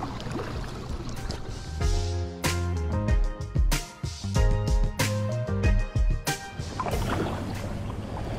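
A small boat paddled across Weaver Lake in Maple Grove at sunrise, with irregular splashes and knocks of the paddle, close water swishes and drips over faint outdoor ambience.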